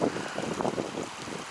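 Creek water rushing steadily around an ankle-deep crossing on the Ozark Highlands Trail as a hiker wades through, a dense continuous wash with wind-like broadband noise and no voices.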